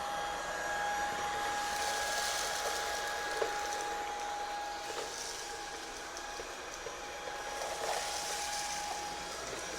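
A Shark pet vacuum cleaner running steadily on a hard floor in floor mode, a constant whooshing motor drone with a faint high whine, occasional clicks and rattles of debris being picked up.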